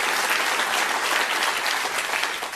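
Audience applause fills the room as a dense, steady wash of clapping from a large crowd, close and loud throughout, fading slightly at the end.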